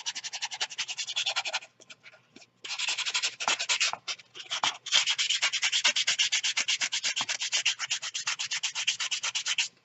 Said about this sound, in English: So you just rub it along the edge.